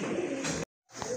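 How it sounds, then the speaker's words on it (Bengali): A pair of pigeons offered for sale coo close by in soft, low repeated calls, broken by a brief silent gap before the cooing resumes. "খুব ভালো ডাকে এক জোড়া কোকা কবুতর"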